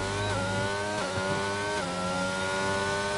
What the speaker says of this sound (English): Let's have a little look inside the car. We'll get inside for it, although it's sometimes a bit noisy with the engine.